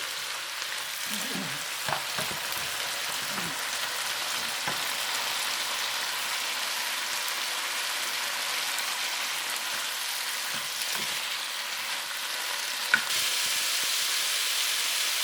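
Pepper fish sizzles steadily in a pan, a dense continuous hiss with a few soft clinks and stirring scrapes early on and a brief sharp tap near the end.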